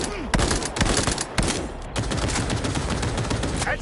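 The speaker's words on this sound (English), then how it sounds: "Quit whining and keep shooting." Heavy gunfire in Cyberpunk 2077, dense overlapping shots and automatic bursts that stay loud and continuous with a few sharp louder reports.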